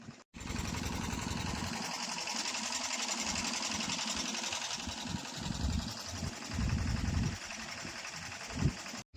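A farm engine runs in a steady, rapid mechanical drone close by, briefly dropping out at the start and end, during preparation for paddy planting.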